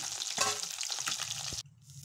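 Fish pieces fry in a pan of oil, a bright crackling sizzle that stays dense and close for most of the moment before cutting off abruptly and returning more softly.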